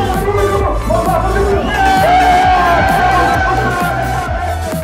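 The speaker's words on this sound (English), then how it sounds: "Amazing crowd here in Portugal." A large, passionate crowd at a rallycross event in Portugal roars and cheers steadily throughout, a dense wash of voices and whoops over a rhythmic low thumping, with no single speaker standing out.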